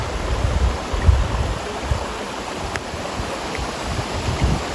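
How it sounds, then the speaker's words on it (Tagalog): River water flows across a rocky, road-like ford in a barangay river, a steady low rushing and gurgling close to the microphone, with some wind noise and no talking. "Ito dumadaan yung tubig."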